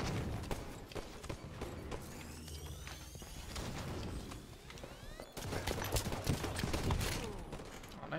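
Rapid gunfire bursts from the Halo 5 video game in a Slayer match, dense overlapping shots with sweeping electronic weapon tones, continuous and fairly loud throughout, no speech.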